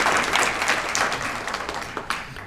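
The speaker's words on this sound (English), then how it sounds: "Let's give these people a round of applause." Applause from banquet guests at a legends and leaders awards dinner, a fairly steady wash of clapping that gradually thins toward the end, with no talking over it.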